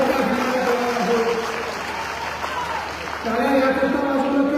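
Crowd at a political speech claps in a broad, steady wash of applause, with someone speaker's amplified voice talking over it, briefly dipping before the clapping swells again.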